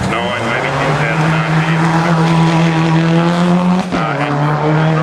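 A Super 2000-style rally car engine at the 2006 Rally of South Australia holds a loud, sustained high-rpm howl, with a brief dip near the end before climbing again, and a commentator talking over it.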